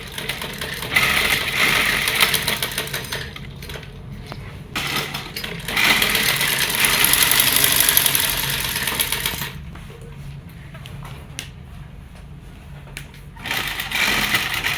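A sewing machine stitches lace trim onto a kameez in close, rapid bursts of mechanical whirring and clatter, starting and stopping several times with quiet gaps between runs.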